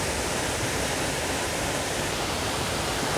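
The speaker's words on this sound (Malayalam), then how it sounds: "അച്ചങ്കല്ല് വെള്ളച്ചാട്ടം എന്തായാലും സൂപ്പർ." The Achankallu waterfall in Kasaragod, Kerala, a seasonal monsoon cascade, roars as a dense, steady rush of falling water with no breaks, close and loud.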